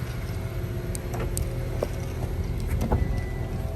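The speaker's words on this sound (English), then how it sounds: "Car's already running." A 2021 Honda Accord engine idles steadily after a remote start with a low, even rumble, close by, with a few faint clicks and taps over it.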